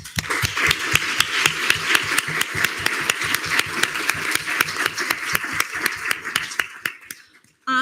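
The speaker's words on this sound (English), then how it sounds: "So I just wanted to give a round of applause for Chair Samillo." Hand clapping fills a student government senate meeting in quick, sharp, evenly spaced claps for several seconds, then stops abruptly into near silence.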